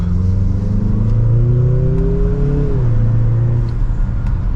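A 2024 Mazda CX-50 Turbo accelerates hard in sport mode, second gear, its engine note climbing steadily in pitch, then dropping sharply as it shifts and settles into a steady drone, loud and close from inside the cabin.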